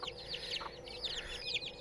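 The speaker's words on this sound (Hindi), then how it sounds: "ये भी मुर्गी है हमारी" Aseel hens cluck in short, chattering bursts nearby, with soft high chick peeps mixed in over a faint background hum.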